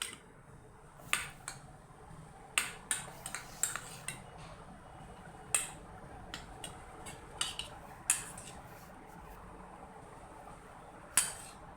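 A spoon clinks and scrapes against a bowl while coloured rice is stirred for mutanjan, the sweet festive rice dish, giving sharp, irregular taps spread over a quiet background, close and fairly soft.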